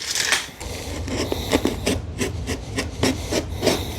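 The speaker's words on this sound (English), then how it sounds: "I'll just make a straight line with a straight edge, and we'll cut it with a razor." A razor blade drawn along a straight edge slices through a waterproofing sheet during shower prep, giving a steady close rasping scrape with repeated short strokes.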